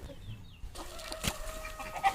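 Backyard chickens cluck softly while pecking at jackfruit, with a few brief, scattered calls and a light knock in the middle, set against faint outdoor noise.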